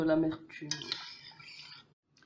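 Lemon sugar syrup being stirred in a pan with coriander added, giving a few clinking scrapes of a utensil against the cookware, close and moderately loud, then fading to quiet.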